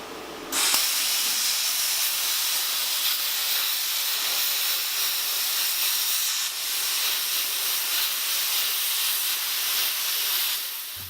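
Compressed air hisses steadily out of a 60-gallon air compressor tank as it bleeds down, a loud, continuous broadband rush that lasts the whole stretch with only slight dips and no voices.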